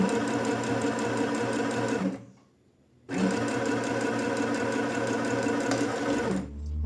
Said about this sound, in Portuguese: Levanto a sapatilha, encaixo o tecido e venho costurando aqui